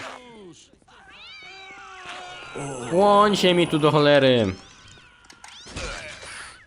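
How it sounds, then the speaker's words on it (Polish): A cat meows loudly in a drawn-out, wavering call amid Postal 2 game sound effects, with someone talking over it. "Kurde, wybuchające koty."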